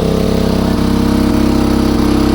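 A CHAMPION 3.5 kW gas-petrol generator in an enclosed housing runs under an electric kettle load, a loud, steady, close engine drone with an even pulsing throb.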